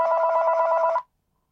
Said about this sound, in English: I had to answer that other phone